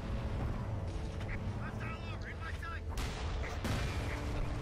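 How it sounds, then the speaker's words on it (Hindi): Two tanks roll in and fire during a Frontlines: Fuel of War battle, heavy booms and rumbling mechanical noise filling a dense, continuous war soundscape. "अब देखो, दो दो टैंक आ रहे हैं इधर।"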